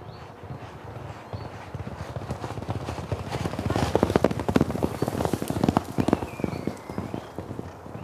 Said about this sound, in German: Dort sprinten die Galopper etwa eine Runde um die Sandbahn.